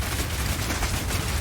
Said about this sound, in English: Rapid fire!